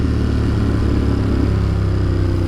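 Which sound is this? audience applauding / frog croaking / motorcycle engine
motorcycle engine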